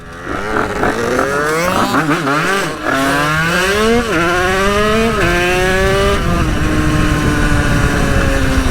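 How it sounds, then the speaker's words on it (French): A tuned 50cc moped with an 86cc aluminium top end revs hard, its high buzzing engine note climbing and falling through several rising sweeps, loud and close throughout. "Oh merde, une voiture."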